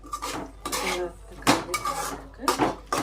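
Metal pot lid lifted and noodles stirred in a pan, giving several sharp clanks and scraping strokes in an irregular rhythm, close and fairly loud, with no talk.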